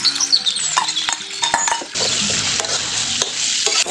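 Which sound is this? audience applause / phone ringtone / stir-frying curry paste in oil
stir-frying curry paste in oil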